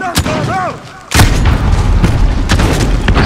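A grenade detonates in the shooter game Call of Duty Modern Warfare. A sharp, loud boom is followed by continuous rumbling and scattered crackling bursts, with brief background noise just before.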